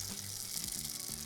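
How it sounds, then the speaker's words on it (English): Vegan arepas sizzle on a griddle, a continuous close frying hiss with small crackles and no voices. "Sizzle"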